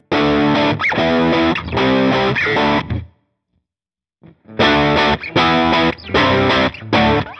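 Loud distorted electric guitar through a Line 6 Helix with sag all the way up and bias all the way off, playing chords in bursts, cutting out briefly before resuming with heavy, saturated amp tone.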